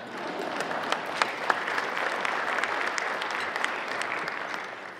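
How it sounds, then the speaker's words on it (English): Applause from a luncheon audience, moderately distant and steady, with a few sharper individual claps standing out now and then. "We can clap for that, by the way."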